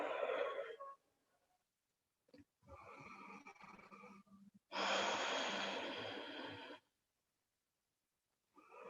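Deep breaths during an evening yoga session, with long airy exhales and inhales separated by silent pauses, one extended breath louder and held for about two seconds, heard close and alone.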